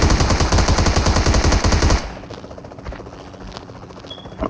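Heavy automatic gunfire and a helicopter roar together in PUBG Mobile, loud and continuous for two seconds, then the shooting drops to a quieter rumble of rotor noise with scattered shots and faint clicks.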